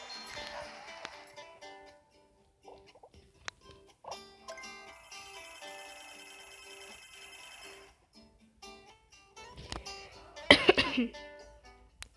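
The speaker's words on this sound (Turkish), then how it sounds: "Fazla konuşunca hep öksürdüm." A person coughs in a short burst near the end, close to the microphone, over quiet game music and tones while playing Uno.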